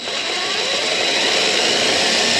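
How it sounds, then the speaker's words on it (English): A greenhouse heater fires up with a sudden broadband whoosh that settles into a steady, loud roaring hum, close and continuous, with no voices. "So our heater just kicked on."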